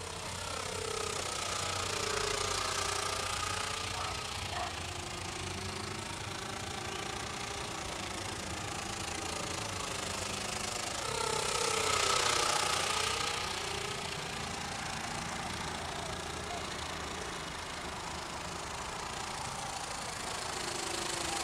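Engine of a scratch-built scale model airplane with counter-rotating propellers, a steady buzzing drone in flight that swells louder and fades as it passes by, with no voices.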